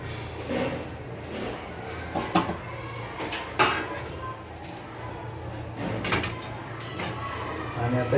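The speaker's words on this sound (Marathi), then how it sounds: "हे आपण चांगले मसाल्याबरोबर परतून घ्यायला आपला" Mutton sautéed with onion-garlic and mutton masala in a pot for a goat mutton curry: loud, irregular clanks and scrapes of a metal spoon against the pot over a low background hum.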